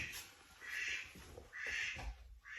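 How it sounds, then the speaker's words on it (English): A pet duck quacks indoors, giving a run of several nasal quacks in a slightly muffled, roomy setting. "Sorry, I was interrupted by my duck."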